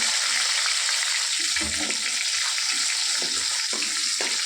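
Tomatoes and dried curry leaves frying in plenty of oil in a pan, a loud, continuous hiss close by with a few soft stirring knocks underneath, and no talking.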